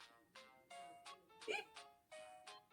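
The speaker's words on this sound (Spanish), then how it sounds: "Era un hipo tan fuerte que hasta lo hacía saltar." A child's hiccups sound as a run of short, repeated bursts with one louder, sharper jolt in the middle, faint and close, rhythmic over about three seconds.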